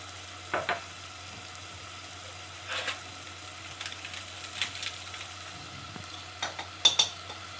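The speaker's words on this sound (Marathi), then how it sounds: "आता हे परतून घ्यायचे चांगले" Spices with Kashmiri and garam masala sizzle softly in a pan while a spoon stirs and scrapes in scattered bursts, with a few sharper metallic clinks toward the end.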